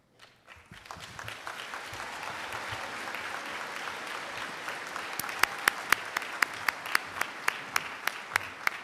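Commencement audience at College of DuPage applauding graduates, a broad wash of crowd clapping that continues steadily, with a few sharper, louder individual claps standing out near the end.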